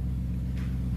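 A BMW E92 M3 engine, the S65 unit, idles with a deep steady rumble at close range, with a faint rising rev swell partway through; no one speaks.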